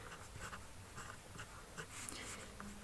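Pen scratching across paper while a maths solution is written out, a quiet, close sequence of short strokes and scribbles in an otherwise hushed room.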